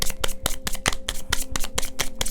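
Tarot cards being shuffled by hand, a fast, close series of crisp riffling slaps and flutters in an uneven rhythm, with no voices.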